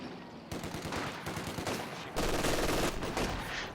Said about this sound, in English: There's a machine gun though, so they have to be careful.